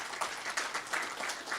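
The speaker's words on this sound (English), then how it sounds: "please everybody give him a big round of applause" An audience at a global networking event in Dubai gives a round of applause, a faint, steady patter of many hands clapping from some distance, continuing evenly throughout.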